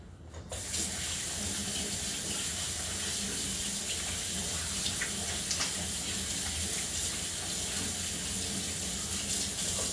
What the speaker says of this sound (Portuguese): Eu agora vou passar as mãos à água